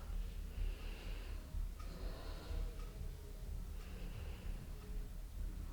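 Slow, audible breaths of a person holding a yoga pose, kneeling and sitting back on tucked toes, with soft snort-like inhales and exhales repeating steadily at close range and no talking.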